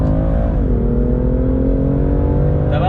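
A BMW M2 CS engine revs hard at full throttle on a race track, a loud, close, steady roar with rich harmonics that dips slightly in pitch early on, then holds strong and continuous throughout.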